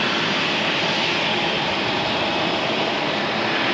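A JetBlue jet airliner taxis at Raleigh-Durham International Airport, its engines producing a loud, steady, close roar that holds without a break.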